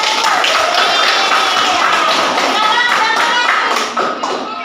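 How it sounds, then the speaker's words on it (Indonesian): A classroom of students applauds a classmate's reflection, steady loud clapping that continues evenly throughout and fades slightly near the end. "Kita kasih aplaus dulu"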